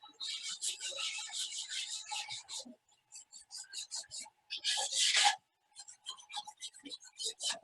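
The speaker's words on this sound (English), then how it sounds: "sand that, just kind of round it around." Sandpaper is rubbed over the repaired shaft of a cracked Concept2 oar in quick, close, rhythmic strokes that come in bursts separated by short pauses.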